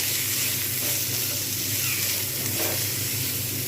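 Sweet pumpkin pieces sizzle steadily in a hot pan while being stirred, a continuous close frying hiss with soft scraping underneath, no voices.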